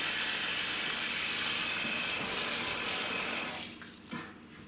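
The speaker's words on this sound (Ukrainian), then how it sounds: "Заливаємо гриби холодною водою, щоб вода покрила." Cold water pours steadily from a tap over mushrooms with a broad hiss, then the flow stops and a few drips and splashes follow.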